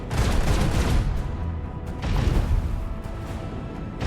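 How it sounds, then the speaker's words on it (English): Macro cannons unleashing a salvo in the Warhammer 40k: Rogue Trader space combat game: two dense, loud waves of rapid blasts and crashing booms, one right after the other, with no voices. "Macro cannons, open fire."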